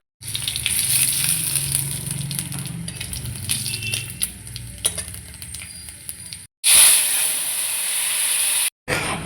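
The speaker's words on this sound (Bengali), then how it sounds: "এখন গরম জল দিয়ে দিচ্ছি।" Hot water poured into a pan of fried spice masala while cooking a cauliflower and fish curry, with a loud continuous sizzling hiss that swells sharply near the end, broken by brief gaps.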